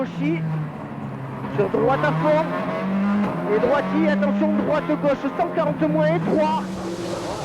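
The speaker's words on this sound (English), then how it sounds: "Sebastian Loeb is driving carefully through the stage" Sebastian Loeb's rally car on a stage of the 2003 Rallye Sanremo, its engine holding a steady droning whine with shifting pitch throughout. The car sounds under continuous talk.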